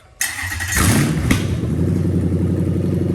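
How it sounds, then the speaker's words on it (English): A UZ-FE non-VVT-i engine fitted in an IS200 cranks briefly and catches, then settles into a steady, loud running rumble close by. "let's go ahead and switch the key on, and let's start her up"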